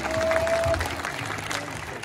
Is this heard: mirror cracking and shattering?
no